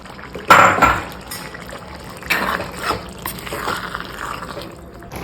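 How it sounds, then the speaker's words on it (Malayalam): Tamarind water is poured into a cooking curry, landing with a sharp splash followed by softer sloshing and trickling over several seconds, near and moderately loud, without speech. "ഇതിലേക്ക് നമുക്ക് പുളി എടുത്ത് വെച്ചാൽ പുളിവെള്ളം ആ സമയത്ത് ഇതിലിട്ട് ഒഴിക്കും."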